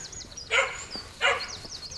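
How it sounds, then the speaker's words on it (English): A puppy barks twice, moderately loud and a bit distant, with birds chirping in the background at a spring campsite. "Very noisy dog."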